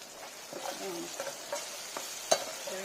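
Tomato pieces frying in a pan for a Godavari-style fish curry, with a low sizzle under several soft utensil scrapes and one sharper clink, all fairly quiet and brief.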